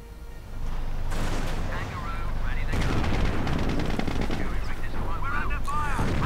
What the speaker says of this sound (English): Heavy Panzerabwehr cannon fire on it.